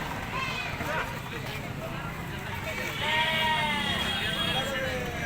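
Several goats bleat in wavering calls amid a busy crowd at a large goat and sheep market in Murgud, Kolhapur, with chatter and market noise throughout.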